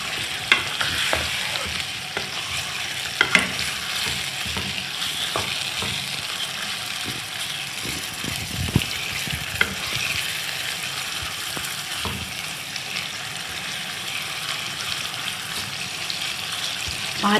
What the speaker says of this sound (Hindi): अब हमने इनको इसमें थोड़ी देर ऑयल में भूनना है अच्छी तरह।